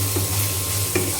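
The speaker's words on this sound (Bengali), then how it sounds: "এখন আমি মশলাটা পেঁয়াজের সঙ্গে একটু কষাই নেব।" Ginger, cumin and garlic paste sautés with onions in a hot pan, a brief, close, steady sizzle with a couple of soft stirring scrapes and no speech.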